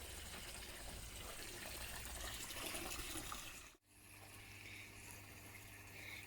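Water gushing steadily into a koi pond as it fills, a continuous close rushing sound that briefly drops out midway and then resumes at a similar level.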